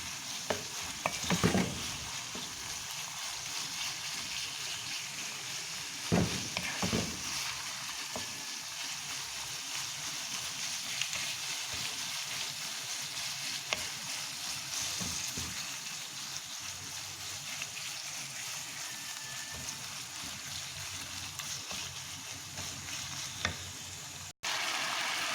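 Minced keema fries in a pan with a continuous soft sizzle and hiss, broken by occasional scraping stirs and clicks, steady and fairly close throughout.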